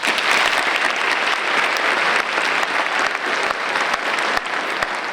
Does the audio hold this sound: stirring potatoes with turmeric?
no